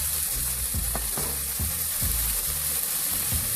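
Fiddleheads and yu choy saute in a hot pan with a steady, close sizzle, broken by a few short clattering stirs.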